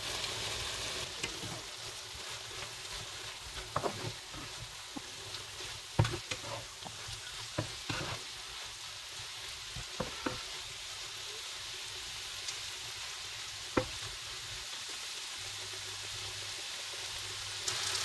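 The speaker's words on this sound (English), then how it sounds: "we'll take a look at what we've got on the stove, give everything a stir" Eggplant and zucchini frying in a pan on the stove, a soft continuous sizzle with scattered clicks and taps of a utensil stirring, quiet and close with no voices.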